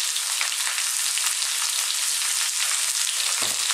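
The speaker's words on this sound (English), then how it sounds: "We're now going to add in our onions, our garlic ginger paste" Onions and garlic ginger paste with salt sizzle steadily in a hot pan for a spinach potato curry, a bright, even frying hiss with no talk.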